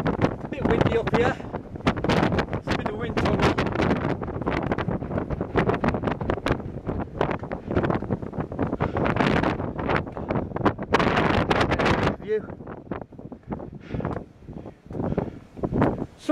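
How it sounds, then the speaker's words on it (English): Strong wind buffets the microphone on the Moel Famau hilltop in North Wales, loud, gusting roars that surge and drop throughout, easing toward the end, with someone speaking briefly beneath it. "A bit windy up here."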